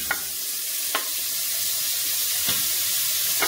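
Ham and ingredients for an oven omelet sizzle steadily in a hot pan, a constant bright hiss broken by a few soft stirring scrapes, with no talking.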